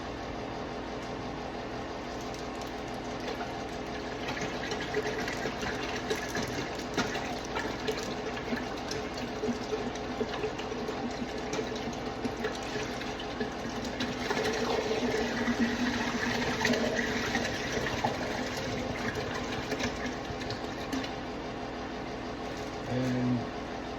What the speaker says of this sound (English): 2 gallons worth of distilled water right in there.